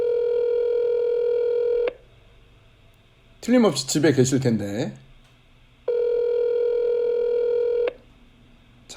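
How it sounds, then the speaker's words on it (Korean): Electronic telephone tones sound twice as steady multi-tone beeps lasting about two seconds each, separated by a stretch of someone speaking, as a call to a home rings through without being answered. "전화를 연결하고 있습니다."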